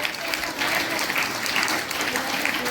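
A crowd at a Republic Day gathering claps continuously in a dense, sustained wash of applause that holds steady throughout.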